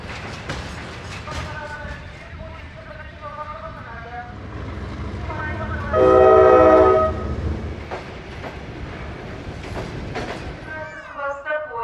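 A loud, sustained locomotive horn blasts for about a second at a busy Kazakhstan railway station as passengers board, with low rumbling, clanks and distant voices around it.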